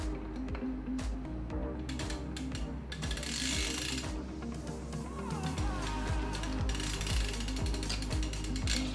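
Titanium Cane Creek eeWings cranks take pedals threaded in with a ratcheting tool, a steady run of close mechanical ratchet clicks and gear-like rattling continuing throughout at moderate volume, with no talk.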